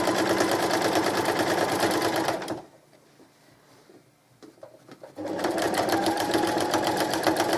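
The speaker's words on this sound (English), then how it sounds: "I'm just going to keep stitching until I get back to where I started." A sewing machine stitching fabric binding, loud rapid close-up whirring that stops for a few seconds of near quiet with faint handling, then runs again at full speed.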